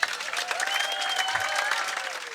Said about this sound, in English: Can we have a big clap for them?